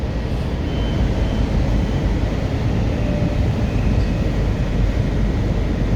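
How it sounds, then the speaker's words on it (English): A Washington Metro Silver Line train running through the new Dulles Airport station before it opened, a loud, steady rumble and roar of rail travel heard from on board, continuous and without speech. "And that is our passage through Washington Dulles International Airport"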